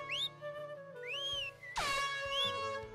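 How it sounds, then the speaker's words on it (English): An air horn blares in bursts, its sliding tones rising and falling over a music track, loud and close. "Oh, the air horn."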